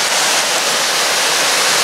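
Steady, loud roar of water pouring at the base of Rhiwargor Falls, a dense continuous rush filling the whole moment without pause, with no voices.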